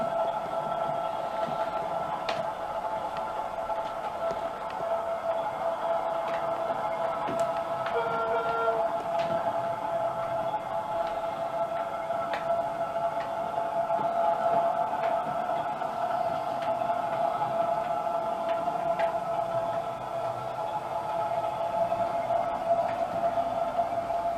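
A model railway train, a class 08 shunter in sector livery pulling a single wagon, runs steadily along a layout toward a junction, giving a continuous motor hum and rolling rumble with a few faint clicks from the track joints, heard alone.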